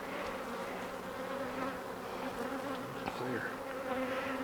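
Honey bees hum in a steady, dense drone around an open hive during an early-spring inspection. The buzz is continuous and close, with occasional louder passes of individual bees.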